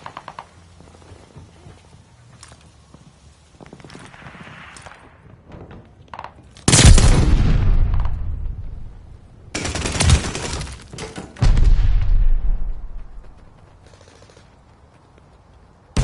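Gunfire in a shooter video game, several loud close bursts of automatic fire separated by quieter stretches of distant shots and thuds.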